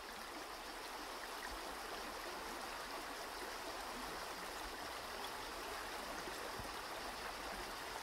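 River water flows in a steady, even broadband rush, continuous and soft, with no voices or other sounds over it.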